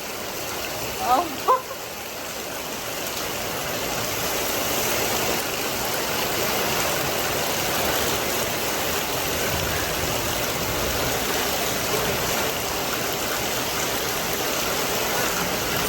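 Heavy rain pouring down in a village, a dense steady hiss that grows louder after a few seconds and holds without pause, with a brief voice near the start.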